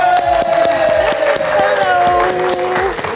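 Studio audience on a late-night live TV show claps and cheers for an R&B singer's entrance, a steady dense wash of applause over loud band music throughout.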